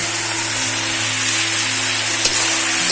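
Ground garlic, ginger, cumin and chilli pastes hit a hot frying pan for a village-style country chicken curry, giving a steady, loud sizzle with a low hum underneath throughout.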